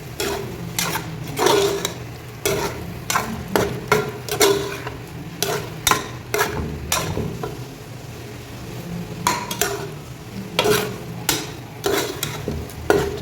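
Boiled potatoes are being stirred into an egg gravy in a pan: a spoon scrapes and clatters against the pan in quick, repeated strokes over a soft sizzle, close and loud.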